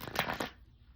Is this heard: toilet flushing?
no